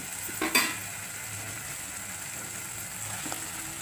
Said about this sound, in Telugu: సొరకాయ వేద్దాం